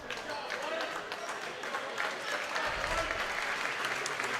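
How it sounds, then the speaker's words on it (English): High school varsity basketball crowd cheering and clapping in a gym, a sustained roar of applause and shouting with a thud near the middle, under a commentator talking. "Faithfuls for both squads cheering on their players"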